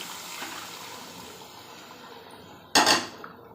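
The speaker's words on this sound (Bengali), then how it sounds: "আমি গরম জল দিয়ে দেবো।" Hot water is poured into a pot of chicken curry with potatoes: one short, bright splash near the end, after a quiet stretch of low kitchen background.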